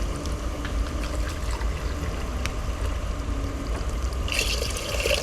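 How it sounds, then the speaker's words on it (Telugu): Water pours steadily into a pot of rice, a continuous splashing rush with a brighter hiss near the end. "ఇప్పుడు వాటర్ అయితే వేస్తున్నా"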